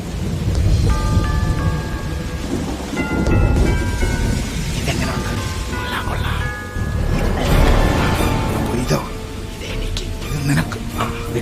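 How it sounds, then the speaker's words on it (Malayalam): Heavy cartoon rainstorm with rumbling thunder, a dense continuous downpour under the animated characters' talk, with louder thunder swells rising and falling throughout. "എന്തൊരു മഴ!"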